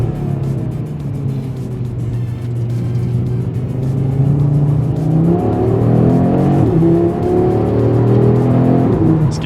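Audi RS3 driven hard, its engine droning steadily and then revving higher as it accelerates, loud and close throughout.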